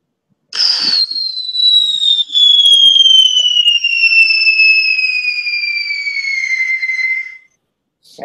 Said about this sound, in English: This is a pyrotechnic whistle.